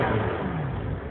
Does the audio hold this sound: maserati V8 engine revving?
yes